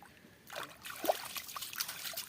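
Water trickles and splashes faintly as a small child washes hands and face, with soft irregular dribbling and light splatters close by.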